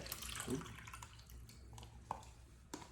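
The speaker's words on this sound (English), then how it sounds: "let's try to clean these tomatoes with the smart water" Tap water runs and splashes while tomatoes are rinsed, with uneven sloshing, close and fairly quiet, and a few sharper drips and knocks.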